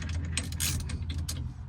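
A puller being cranked down to draw a 1972 Plymouth steering wheel off its shaft gives a close run of ratcheting, metallic clicks and brief scraping bursts over a low steady hum.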